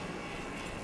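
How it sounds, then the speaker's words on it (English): Helicopter in the video game Resident Evil 6, a steady broadband rotor-and-engine roar filling a brief moment at constant loudness, with no voices over it. "Go for the next chopper!"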